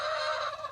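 One of several rescued hens lets out a short, nasal honk-like squawk, close and moderately loud, that lasts under a second.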